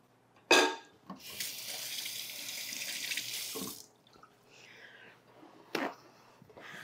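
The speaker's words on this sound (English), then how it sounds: "Just wash my hands." Running water from a kitchen tap splashes over hands for a few seconds, a bright hiss with a sharp clack at the start and small knocks as the flow stops.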